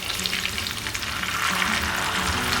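Hot oil crackles and sizzles loudly and continuously as beaten egg fries in a pan, Thai-style omelette with cha-om leaves, with no talking.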